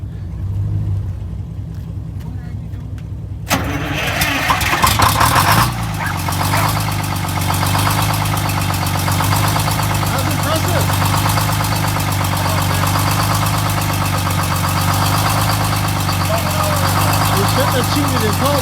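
A Detroit Diesel 6-71 engine cranks and fires after an oil change, then settles into a loud, steady, rumbling idle with a rhythmic knock. A person talks near the start.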